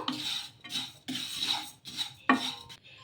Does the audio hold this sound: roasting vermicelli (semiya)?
yes